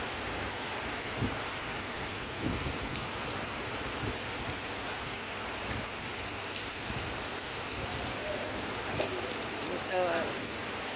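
Heavy rain pours steadily in Abu Dhabi in a dense, constant hiss, with occasional louder splashes and faint voices in the background.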